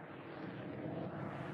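A steady, broad engine roar of a military airplane passing overhead, constant and moderately loud with no other sounds.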